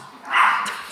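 A Pomeranian gives a single short, sharp bark at the door, fairly loud and close, with no talking over it.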